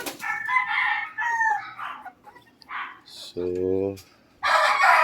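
Three-month-old young roosters crow in short raspy bursts amid scattered clucks from other chickens, with someone speaking briefly between the calls.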